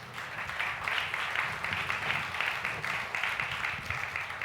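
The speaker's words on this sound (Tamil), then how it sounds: "இவ்வளவுதான கைத்தட்டு அவருக்கு." A church congregation claps during a Sunday service, a steady wash of applause with pulsing surges that carries on throughout at moderate volume.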